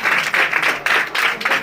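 Audience clapping at a prayer gathering, a short burst of dense, rhythmic applause, loud and close, without talk.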